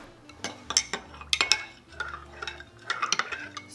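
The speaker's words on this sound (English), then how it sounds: "Stir that around." A utensil stirs milk with vanilla and red food coloring in a bowl for red velvet tres leches cake, producing repeated close clinks and scraping taps against the sides in an uneven rhythm.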